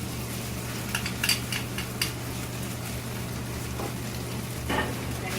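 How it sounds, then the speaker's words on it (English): Spätzle searing in a pan with caramelized onions nearby, a steady low sizzle running throughout with occasional light clinks and scrapes of a utensil against the pan. "Now we're going to let it sear a little bit"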